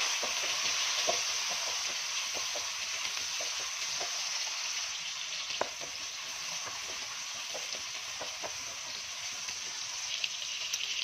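Garlic, onion and tomato sizzle steadily in a hot pan, a continuous close frying hiss broken by small irregular crackles and a few stirring scrapes, with no voices.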